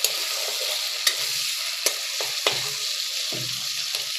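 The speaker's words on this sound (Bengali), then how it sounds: "কড়াতে তেল গরম হলে পেঁয়াজটা ভেজে নেব" Onions frying in hot oil in a kadai give a steady bright sizzle, with a few sharp spatula scrapes and clinks against the pan and nobody speaking.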